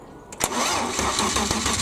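A trike's engine cranks with a sharp burst and catches, settling into a loud, steady close-up running rumble.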